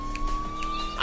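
In the video game Forza Horizon 3, a police siren wails as a steady electronic tone that rises slightly, heard briefly over a low motor hum.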